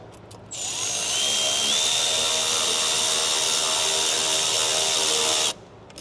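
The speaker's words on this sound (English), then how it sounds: "Let's tighten it." A power tool tightens a clamp on a new PPE intake kit fitted to a 6.7 Ford Powerstroke diesel, a loud, close, continuous high whirring run of about five seconds that shifts pitch slightly and then cuts off abruptly.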